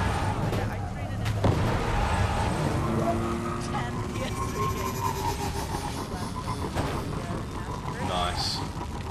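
Gunfire and explosive bursts from the video game Destiny, a busy rumbling barrage of shots and booms running through the whole stretch, mixed with game sound and voices talking over it.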